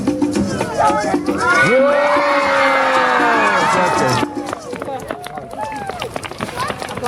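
Street audience at a December outdoor square show in Belgrade bursts into loud cheering and shouting after a fire-torch trick, a dense crowd roar with whoops that fades after about four seconds into scattered voices and noise.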